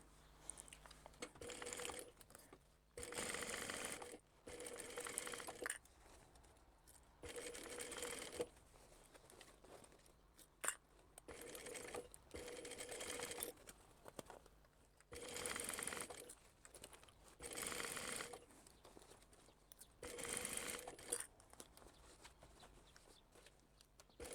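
A sewing machine stitches around the inside top edge of a crossbody bag in repeated bursts of fast whirring, each run stopping and starting with short pauses between, close and clear.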